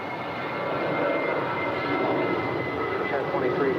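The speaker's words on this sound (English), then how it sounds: "Got that Japan Airlines Dreamliner taking off there on 24 left." Japan Airlines Boeing Dreamliner taking off from runway 24 left at LAX, a steady broad roar of jet engines at a distance that gradually swells, heard under voices talking.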